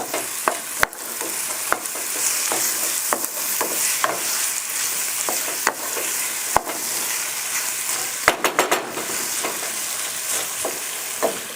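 Vegetable soup with potatoes being stirred in a pot, with a spoon scraping and knocking against the sides in irregular sharp clicks over a steady bubbling sizzle, close and clear with no talking.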